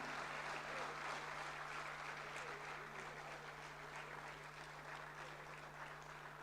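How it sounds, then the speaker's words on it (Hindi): Audience applause fills a World Veterinary Day ceremony, a steady, moderately loud patter of many hands clapping throughout, with a low constant hum running underneath. "आशीर्वाद रूपी तालियों से आइए इस क्षण को हम और भी यादगार बनाते हैं।"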